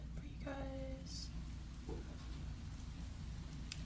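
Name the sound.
rain starting to fall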